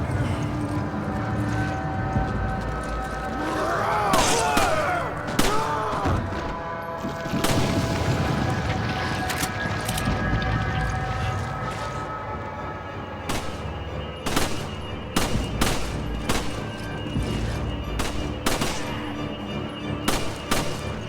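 Bursts of gunfire in the video game Resident Evil 5, scattered sharp shots and booms over a busy, dense game soundscape, some shots spaced out and others clustered near the end.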